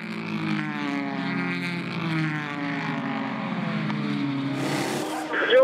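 Porsche prototype race cars at the 2017 6 Hours of Nurburgring roar past in a steady, sustained engine drone with shifting harmonic pitch, one Porsche trailing its sister car, a commentator talking over the noise throughout.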